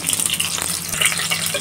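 Stuffed eggplants frying in a pan give a steady, close crackling sizzle that runs unbroken through the short stretch, with no voices over it.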